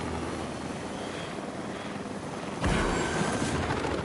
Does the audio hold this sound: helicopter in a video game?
yes